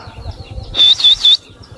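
A quick flurry of a pet parrot's wing flaps, three close bursts in a row, with faint background voices.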